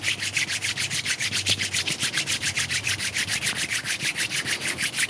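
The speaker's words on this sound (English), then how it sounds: "And then just rubbing the palms to create warmth." Palms rubbing briskly together during a yoga session make a rapid, even swishing rhythm, close and fairly quiet, with no talking.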